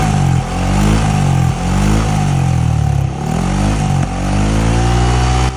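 Motorcycle engine fitted with a JBT version 2 silent killer muffler, revving loudly and continuously with several rises and dips in pitch, close up and without talk.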